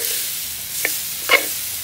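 Thai curry paste with white and red shallots and shrimp paste roasting in oil for a northern Thai eel curry, a steady low sizzle with two brief scraping stirs, fairly quiet and without talk.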